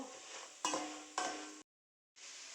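Soft sizzling of spices roasting in a pan, steady frying hiss with two sharper stirring scrapes, a brief silent gap, then the sizzle resumes.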